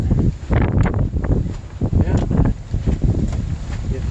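Gusty outdoor wind buffeting a microphone beside a 1999 Chevy Suburban under repair, producing loud, uneven low rumbles and bursts that swell and drop throughout.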